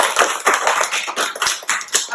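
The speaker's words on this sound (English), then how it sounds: "Let's give those boys a clap." Pupils at a junior preparatory school assembly clap for a group of boys, a brisk and uneven patter of many hands sounding close and continuous, with no talking over it.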